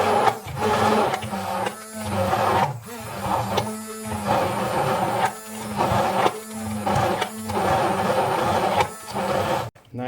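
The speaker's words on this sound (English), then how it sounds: "Now it is in maximum speed and turbo" Silvercrest SSMS 600 E5 hand blender running at maximum speed with turbo, a loud steady whir that dips and surges repeatedly as the blade churns through food, close and alone.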